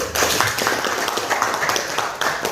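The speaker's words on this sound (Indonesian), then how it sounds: "Masih ada yang tepuk tangan dulu." Students clap together in a classroom during an Islamic religious education lesson. The clapping is a fairly close, continuous patter of quick hand claps lasting a couple of seconds.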